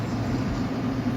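A semi-truck passes close on a wet highway in rush-hour traffic, a steady low rumble mixed with tire hiss on the wet road.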